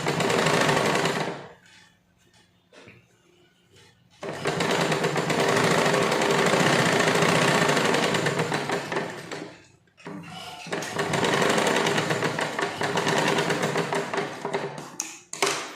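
Sewing machine stitching tucks into a blouse runs loud and close in long steady bursts, with brief pauses while the fabric is adjusted by hand.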